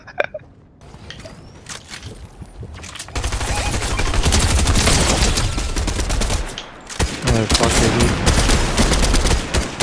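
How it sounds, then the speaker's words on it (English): Rapid gunfire in a hectic Escape from Tarkov-style video game firefight, shots cracking from several directions. Dense bursts overlap and build to a loud, sustained barrage with a brief lull near the middle. "I'm getting shot from everywhere."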